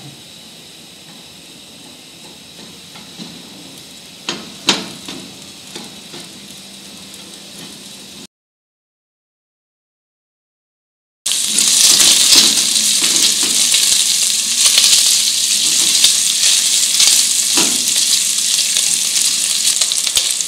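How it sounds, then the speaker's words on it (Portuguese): Chopped bacon fries in a pot as its fat renders, first a soft sizzle with a few clinks, then after a short silent gap a loud, dense, continuous crackle. "O bacon já começou a soltar a gordura."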